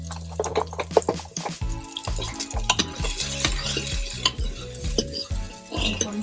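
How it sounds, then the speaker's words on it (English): Onions fry in a pan as a utensil stirs them, with repeated scraping strokes and clinks over a steady sizzle, close and clear with no talking. "Keep on stirring."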